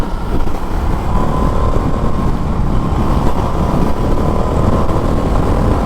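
An Indian FTR 1200 Carbon flat-track motorcycle revs hard while accelerating on a highway, a loud, steady engine roar with heavy rumble and wind noise sustained throughout, close up and with no talking.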